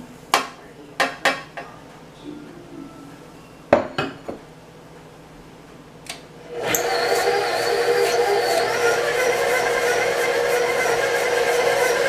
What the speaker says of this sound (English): now I'm going to add in my 3 cups of sugar